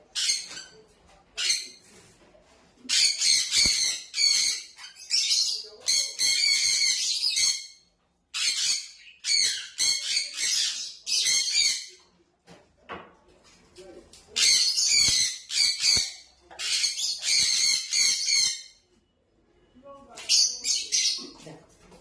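Caged pet birds in an indoor aviary call and squawk in repeated bursts throughout, with sharp chirps and harsh calls crowding one another, loud and close, with brief pauses between bouts.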